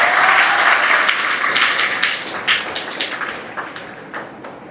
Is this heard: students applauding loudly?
yes